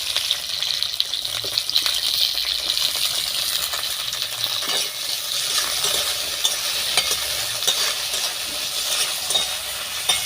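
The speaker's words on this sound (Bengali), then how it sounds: "কড়ার তেল গরম হয়ে গেছে, এই তেলের মধ্যে এবার আমি শিমটা দিয়ে দেব।" Flat beans go into hot mustard oil in a wok, sizzling, with a steady close frying hiss and scattered small clicks and scrapes throughout.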